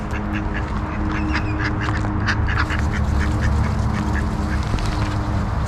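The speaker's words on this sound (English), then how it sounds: "Now they're ducks. Canadian ducks." Canadian ducks on a walking trail quack repeatedly in a steady, busy chatter, several birds near and far, over constant outdoor background noise.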